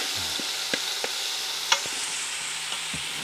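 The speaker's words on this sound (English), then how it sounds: "I'm gonna go ahead and put the macaroni in." Macaroni is stirred into a Ninja Foodi pot with butternut squash, cheddar and vegetable broth, giving a soft steady sizzle with scattered spoon scrapes and clicks close by.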